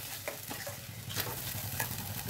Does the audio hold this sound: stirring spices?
yes